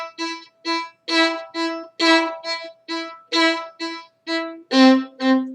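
Bowed string instrument playing a repeated eighth-note pattern, with about a dozen detached notes in steady rhythm and some notes accented louder, clear and close with no talking.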